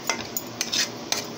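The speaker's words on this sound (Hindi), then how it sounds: "ऐसे ही चलाते हुए फ्रेंड्स ऐसे ही मिक्स करना है सारे मसालों को" Dry ground spices — red chili, cumin, curry powder and garam masala — are stirred in a pan with a spoon for veg roll masala, giving soft scraping strokes punctuated by several sharper clinks of utensil on metal.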